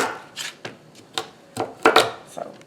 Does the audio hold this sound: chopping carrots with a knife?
yes